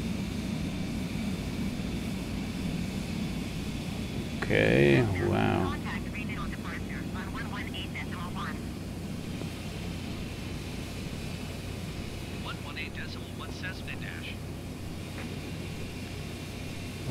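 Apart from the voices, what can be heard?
airplane flying on autopilot in Microsoft Flight Simulator 2020 video game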